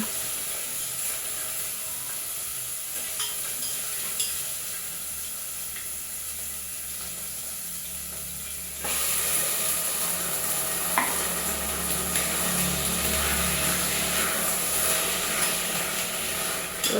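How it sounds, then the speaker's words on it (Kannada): Onions and curry leaves frying in a pan, a steady hissing sizzle that jumps louder and brighter halfway through, with occasional light stirring scrapes and no talk. "ಈರುಳ್ಳಿ ಕರಿಬೇವಿನ ಸೊಪ್ಪು ಹಾಕಿ ಫ್ರೈ ಮಾಡ್ಕೊತಾ ಇದ್ದೀನಿ"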